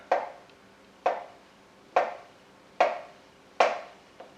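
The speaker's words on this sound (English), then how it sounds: "There we go, some banana slices are coming up here." A knife slices through a banana onto a board, five evenly spaced crisp chops about a second apart, close and clear with no talk.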